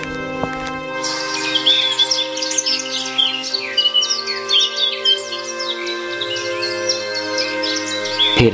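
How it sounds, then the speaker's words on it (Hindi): Morning birdsong with many birds chirping and tweeting in quick, overlapping bursts over a steady tonal background, lively and fairly loud throughout. "पंछियों की चहचहाहट सेठ के कानों पर पड़ी।"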